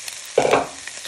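Onions, leeks and unsmoked bacon for a bacon and lentil soup hit the hot soup pot with a sudden short sizzle and stirring clatter, close and fairly loud, fading quickly into quiet.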